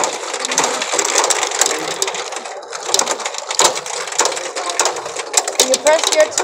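Japanese pachinko machine with metal balls falling, a dense, continuous rattling clatter of cascading balls, close and busy, with people talking faintly over it.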